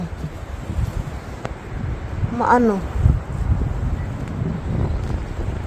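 Steady strong wind from a storm roars and buffets the microphone throughout, with a voice speaking briefly partway through.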